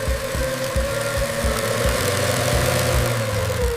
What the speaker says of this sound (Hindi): बच्चों ये देखो टॉय प्लेन। टॉय प्लेन को हिंदी में खिलौना हवाई जहाज कहते हैं।